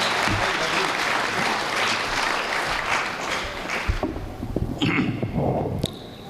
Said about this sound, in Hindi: एक बार जोरदार तालियां आप बजा दीजिए